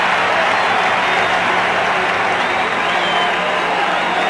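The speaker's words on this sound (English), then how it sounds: "If they need more reason to make noise, a wave rolls around the Metrodome" A packed Metrodome crowd at Game 7 of the 1987 World Series roars steadily as a wave rolls around the indoor stadium, a dense, loud wash of cheering and clapping that never lets up.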